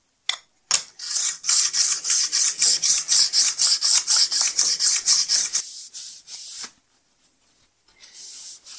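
A knife-edge stone ground by hand against a diamond wheel to chamfer it, for rebuilding a Schaublin 102 compound slide: about twenty quick, even rasping strokes, close and loud, then a few slower strokes and a faint rub at the end.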